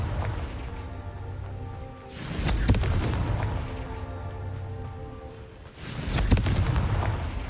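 Confringo explosion spell blasting in Hogwarts Legacy, two sharp booming impacts several seconds apart over a rumbling, droning game background, moderately distant and fairly quiet.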